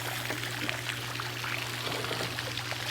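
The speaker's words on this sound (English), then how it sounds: "Fountain's going with the discharge hose on it." A pool fountain pours water from a discharge hose, a steady rushing splash with constant broadband wash and no breaks, close and moderately loud.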